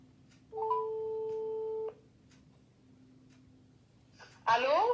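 A single steady telephone ringing tone sounds for over a second while a call is placed, followed by a quiet gap and then a voice answering the line.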